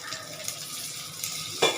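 Garlic dropped into a pan of salted onions gives off a soft, steady frying hiss that swells into a brighter sizzle and clatter at the very end, with no voices.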